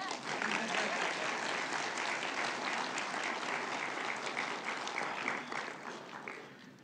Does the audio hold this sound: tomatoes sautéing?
no